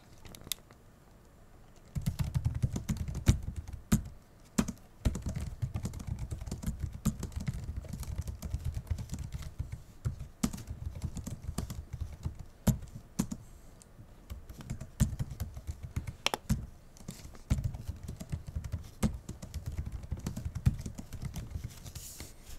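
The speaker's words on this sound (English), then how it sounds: "typing test para sa keyboard ng laptop na ito" Steady typing on an MSI Alpha 15 laptop keyboard, soft rapid key clicks continuing for a long stretch after a brief quiet start, no talking.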